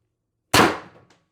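A single sharp crack from a Pistelle X-68 CO2 air pistol, close and loud, with a quick decaying ring and a faint small click at the tail.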